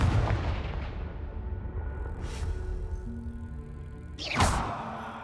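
A Confringo spell blast in the Hogwarts Legacy video game lands as sharp booming explosions over a rumbling background, one burst near the middle and a louder one toward the end.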